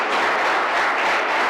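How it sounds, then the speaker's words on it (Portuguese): A church congregation applauding their God in a dense, loud, continuous burst of clapping that fills the short moment with no voices on top. "Vamos aplaudir nosso Deus."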